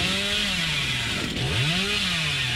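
Chainsaw in the Dead by Daylight video game revving continuously, its droning pitch rising and falling in waves, loud and close, with no talk over it.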